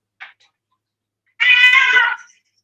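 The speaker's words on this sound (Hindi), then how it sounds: "तो बिल्ली को बाहर भगा दो थोड़ी देर के लिए।" A cat gives a faint brief chirp, then after a pause a loud, close meow lasting nearly a second, with silence around it.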